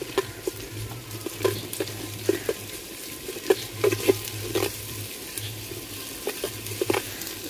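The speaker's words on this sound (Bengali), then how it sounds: "রসুনটা হালকা ভাজে নিছি" Garlic paste frying with onions in a pan: a soft, steady sizzle with small irregular stirring clicks and pops, fairly quiet and close, no speech.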